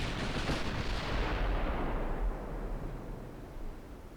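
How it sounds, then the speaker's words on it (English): Naval gun turrets fire fore and aft in the naval combat game Ultimate Admiral: Dreadnoughts, giving a loud, close broadband boom that rolls off into a long decaying rumble, with no voices. "Now we got super duper firing turrets fore and aft."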